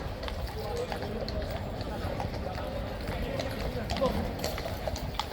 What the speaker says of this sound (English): those horses are taken up to the Blues and Royals stables